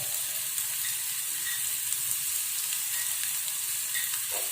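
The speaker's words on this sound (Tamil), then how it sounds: "அந்த வெங்காயம் நிறம் மாறுற வரைக்கும் நல்லா வதக்கி விடுங்க." Sliced onions and curry leaves fry in a pan with a steady, bright sizzle and hiss, heard close and alone with no talking.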